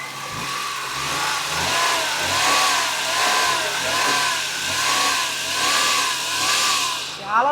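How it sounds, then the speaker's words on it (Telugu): A nearby car engine revs up and down in repeated waves, rising and falling several times over a steady idle. "ఒకసారి నేను ఇంజిన్ రేస్ చేస్తాను"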